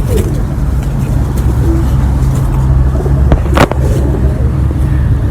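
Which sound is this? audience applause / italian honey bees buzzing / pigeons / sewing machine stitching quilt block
pigeons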